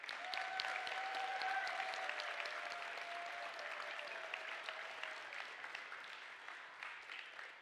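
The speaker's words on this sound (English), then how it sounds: "Let's give our judges a big round of applause." An audience at a robotics league tournament gives the judges a sustained round of applause, dense steady clapping from a crowd that slowly tapers in loudness over several seconds.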